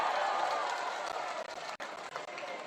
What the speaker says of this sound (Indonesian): Boleh tepuk tangan untuk Bung Ismail Bahtiar